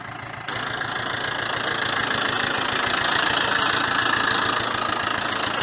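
A Japanese compact tractor engine runs steadily while tilling, a loud, continuous mid-to-low engine drone with a rhythmic knocking pulse that swells slightly and holds without pause.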